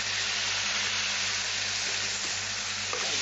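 Soaked Gobindobhog rice lands in a pan of frying bottle-gourd peel, giving a loud, steady, close-up sizzle and hiss with faint stirring clicks.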